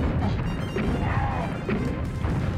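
Giant animals tear through a city in the game Rampage Through Time, producing a dense, continuous run of crashing and smashing impacts with rumbling debris, loud and busy for the whole stretch.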